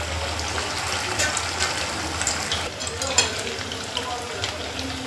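Sabudana vadas fry in hot oil with a continuous bubbling sizzle at moderate volume, dotted with small pops and spatters throughout.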